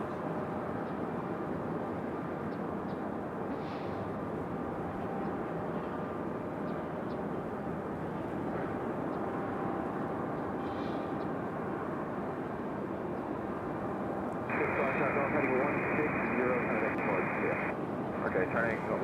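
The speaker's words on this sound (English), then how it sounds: "Let's go for our 737 United." A United Boeing 737 airliner moves at Raleigh-Durham airport with a continuous low engine rumble, and radio chatter plays over it throughout.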